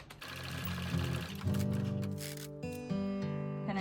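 A sewing machine runs a short straight stitch across the top of a shirt pocket, a close, steady mechanical whir that speeds up slightly partway through the few seconds.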